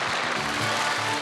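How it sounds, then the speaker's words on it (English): Canned applause on the Top of the Pops studio set plays as a steady, dense wash of clapping for just over a second, filling the clip evenly with no voices over it. "It's canned applause."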